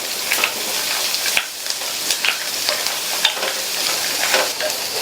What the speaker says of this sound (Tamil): இந்த கேரட் இந்த எண்ணெயிலேயே வதங்கி லைட்டா அதனுடைய கலர் சேஞ்ச் ஆகி வரட்டும்